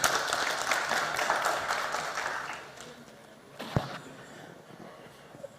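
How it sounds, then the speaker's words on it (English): Audience applause at a forest service awards ceremony, full clapping that fades out by about three seconds, followed by a single sharp knock and quiet room sound. "A huge round of applause, everyone."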